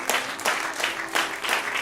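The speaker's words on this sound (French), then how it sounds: "En l'applaudissant comme ça va venir." An audience at a cultural centre event applauds in a show of thanks, with close, sharp bursts of clapping arriving in uneven waves.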